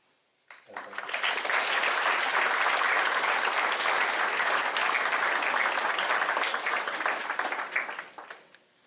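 Audience at a Scout Court of Honor breaking into applause, a dense sustained burst of clapping that starts abruptly, holds steady for about seven seconds and tapers off.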